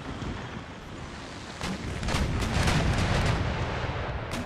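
Rolling cannon broadside fire between sailing ships in Empire Total War, a loud, sustained rumble of overlapping blasts swelling partway through and holding heavy to the end.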